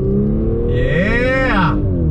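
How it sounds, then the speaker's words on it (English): A 2021 Audi S5 Sportback accelerating hard in second gear, engine note climbing steadily in pitch and loudness before easing off near the end, heard close and continuous from the car. "Second gear on throttle."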